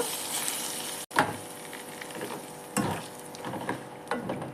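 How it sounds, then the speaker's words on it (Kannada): Hot oil is poured over a lemon peel pickle, setting off a loud, close sizzle that runs throughout with crackling bursts and spattering surges, no voice over it. "ಈಗ ನಾನು ಬಿಸಿ ಎಣ್ಣೆನ ಹಾಕುತ್ತಾ ಇದ್ದೀನಿ ಉಪ್ಪಿನಕಾಯಿಗೆ"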